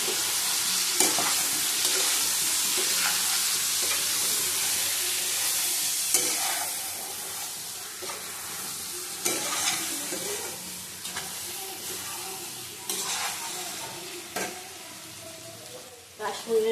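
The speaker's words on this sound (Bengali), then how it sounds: "আবার কষিয়ে নেবো ভালো করে।" A sweet, sour and spicy mango pickle being stirred and sautéed in a pan with turmeric and salt, giving a continuous close sizzle and hiss broken by irregular scraping strokes, with no talk.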